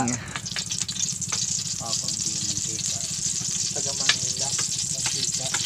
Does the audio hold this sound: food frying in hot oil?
yes